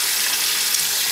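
Water running steadily while rinsing a wool/acrylic blend yarn dyed with food coloring, a continuous close hiss like a tap pouring into a sink, with no talk.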